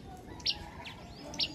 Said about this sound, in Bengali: এই পাখির ডাকটা কিন্তু অনেক সুন্দর